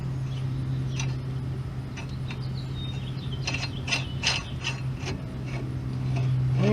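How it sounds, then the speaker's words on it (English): Lug nut being threaded by hand onto the wheel hub of a Dodge Caravan during a brake job, a soft ratcheting, clicking mechanical rattle over a steady low hum, close and fairly quiet. "I'm just going to throw a little lug nut on to keep it from falling off."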